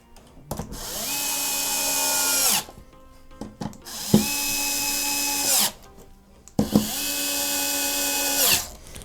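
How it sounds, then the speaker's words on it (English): A power driver screwing down the case screws of an Xbox One S, three loud whirring bursts of about two seconds each, rising in pitch as each screw seats, heard up close and separated by brief pauses. "So you'll screw these down."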